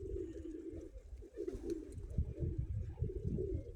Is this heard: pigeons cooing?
yes